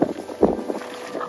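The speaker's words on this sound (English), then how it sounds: "And it's getting windy." Brief gusty wind buffeting a microphone outdoors at night, low rumbling bursts that rise and fall over about a second, close and moderately loud.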